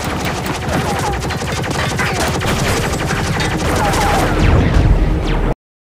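A heavy weapons specialist fires at the windows in a film battle scene, a loud continuous fusillade of rapid gunfire with bursts and impacts that carries on for several seconds and then cuts off abruptly.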